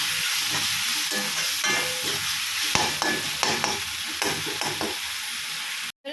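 Tomatoes with ginger-garlic paste stir-frying on a hot griddle for street-style kothu parotta, a continuous loud sizzle with sharp metal spatula scrapes and taps throughout.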